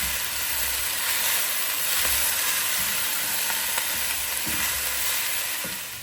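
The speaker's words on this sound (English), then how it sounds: "Now I'm adding the onions and the garlic. I'm just going to saute this up a little bit." Chopped onions and garlic sauté in a hot pan, a steady, close sizzle and hiss with a few soft stirring bumps, continuing evenly with no talk.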